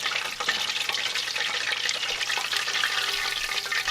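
Breaded chicken frying in very hot oil, a loud, continuous crackling sizzle with dense bubbling pops that holds steady close to the pan, with no talking.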